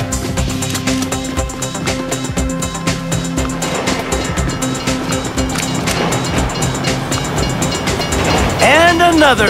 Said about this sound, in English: If you were local, you'd know the train comes by right now!